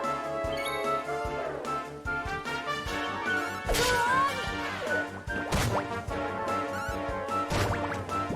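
Sword slashes land in a Dragon Quest XI battle, several sharp crashing hits spaced a second or two apart, punching through steady game music.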